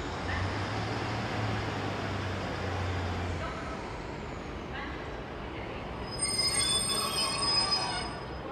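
A Northern train pulls out of a platform at Sheffield station with a low engine drone, then high metallic wheel squeal and a brake hiss rise near the end, heard close and loud.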